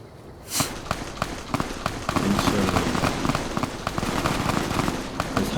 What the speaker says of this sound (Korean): 사격 연습하는 거예요.